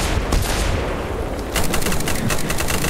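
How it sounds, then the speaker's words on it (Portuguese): Rapid bursts of automatic gunfire ring out against zombies in a survival video game, dense and loud with a continuous rattling rhythm that grows heavier in the second half, no voices. "Bora continuar atirando aqui."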